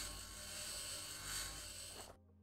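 A grinder tool running in the video game Occupy Mars gives a steady, buzzing mechanical whine for about two seconds, then cuts off abruptly, leaving only a faint hum.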